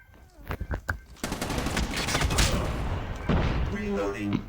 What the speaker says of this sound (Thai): โอ้โหเอาปืนใหญ่ยิงกูอะ